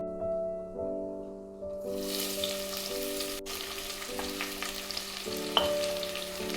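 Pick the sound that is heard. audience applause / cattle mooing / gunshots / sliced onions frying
sliced onions frying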